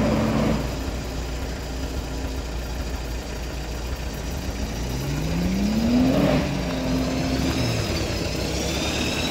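Mercedes ML63 AMG engine idling, then revving and pulling away over construction debris off-road, a steady low rumble that rises with a rising tone around the middle before settling, close and fairly loud with no talk.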